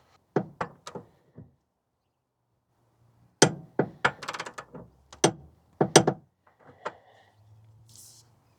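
Torque wrench ratcheting and clicking while tightening bolts on an Andersen Gen 3 fifth wheel hitch, sharp metallic clacks in short bursts with a quiet pause between, close and dry.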